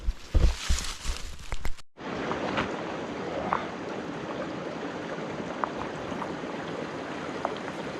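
The Clearwater River rushes as a steady broadband wash of flowing water, heard close and continuous after a brief burst of handling noise at the start, with a few faint clicks.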